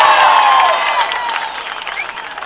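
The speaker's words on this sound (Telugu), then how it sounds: "మంచి జరిగిందంటే గట్టిగా చప్పట్లు చెప్పండి" A large crowd at a political rally in Payakaraopeta, Visakhapatnam district, bursts into loud sustained applause with scattered cheers, fading slightly toward the end.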